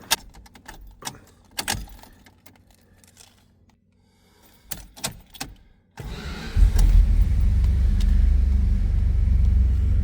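A 1973 Dodge Charger two-door hardtop, after keys jangle and clicks in the cabin, cranks and fires into a loud, deep, steady V8 rumble on cold start that continues to the end.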